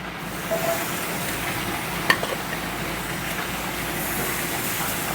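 Steaks go onto a hot, slightly smoking barbecue grill and sear with a steady broadband sizzle, close and continuous, with a sharp clack partway through.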